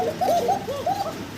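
Kokka pigeons coo loudly and continuously at a pigeon farm, with several overlapping rolling calls in quick succession, close up and without talk.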